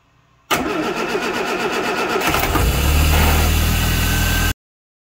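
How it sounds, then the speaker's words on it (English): A classic Mini engine cranks briefly on full choke from cold, catches, and settles into a loud, steady idle that runs for several seconds before cutting off abruptly. "I'm going to use full choke to start this, but this will be a first cold start"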